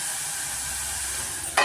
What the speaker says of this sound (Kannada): ನೋಡಿ, ಸಾನಿಯನ್ನು ಫ್ರೈ ಆಗಿದೆ.